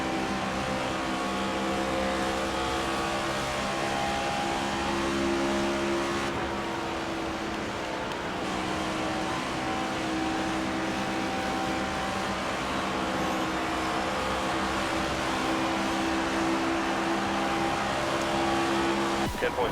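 Race cars roar around the track in a NASCAR video game at Las Vegas, a steady loud engine drone with sustained pitched whine and occasional shifts, continuous throughout.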